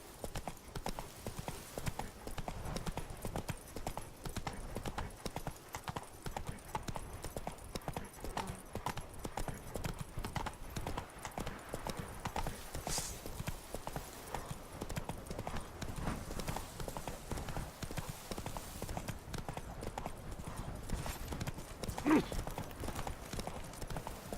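Hooves of Geralt's horse Roach in The Witcher 3: Blood and Wine, a steady rhythmic clip-clop of trotting throughout, fairly close, with a brief voice and game ambience underneath.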